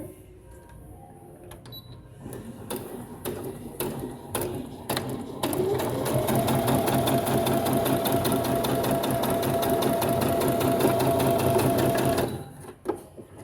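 Brother CS6000XL sewing machine stitching: a few short, separate needle bursts, then a steady, close, fast mechanical whir for several seconds before stopping abruptly.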